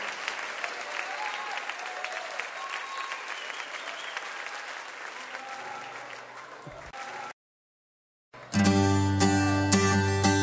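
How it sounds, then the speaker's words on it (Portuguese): A crowd at a gospel concert applauding for the king, dense sustained clapping that cuts to silence, then music returns. "Mais forte esse aplauso ao rei."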